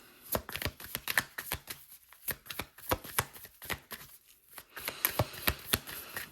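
A deck of tarot cards being shuffled close by: rapid papery riffles and slaps in quick bursts, a brief pause midway, then more brisk shuffling, with no talking.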